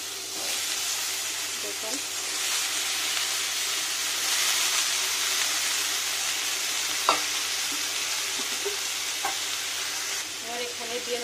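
Ridge gourd and potato frying in a pan, with a steady soft sizzle under occasional stirring scrapes and clicks, while a voice speaks briefly.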